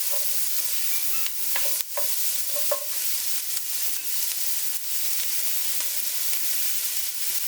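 Onions fry in a pan with a steady broadband sizzle, broken by a handful of sharp scrapes and knocks as they are stirred; close and moderately loud, with no talking.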